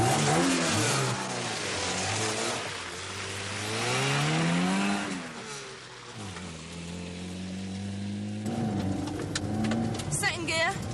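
A car engine driven hard on a kart track, revving loud and close with rising and falling pitch through the gears, a dip as it slows, then climbing again. People talk over it.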